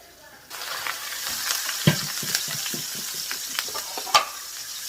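Onion frying in a little oil for Nigerian-style fried rice starts to sizzle abruptly, then a steady close hiss runs on with several sharp clinks and scrapes of a spoon stirring.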